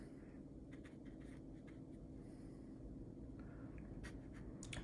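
A pencil sketching on paper for a watercolor study of flowers, with faint, close scratchy strokes in short irregular bursts over a low background hum.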